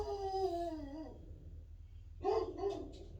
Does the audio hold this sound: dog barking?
yes